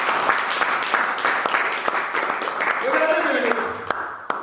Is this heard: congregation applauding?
yes